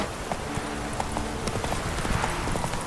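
Roach, a horse in The Witcher 3, gallops with quick rhythmic hoofbeats, close and fairly loud, over a continuous background bed of game sound.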